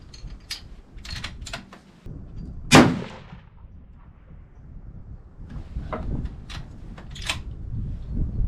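A single loud, sharp Seekins 6.5 PRC rifle shot loaded with 56 grains of H1000 powder, a close crack with brief echoing tail, surrounded by lighter mechanical clicks and handling noises of the rifle.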